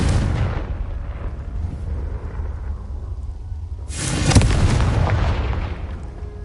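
A Confringo fire spell bursts in Hogwarts Legacy with a loud, rumbling boom at the start, then a second heavy explosive blast about four seconds in, both sitting over a constant low game ambience.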